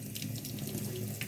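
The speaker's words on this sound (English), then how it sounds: "Blast it with cold water." Cold tap water gushes steadily from a kitchen faucet over cooked pasta in a sink, a loud, continuous splashing rush with no voices.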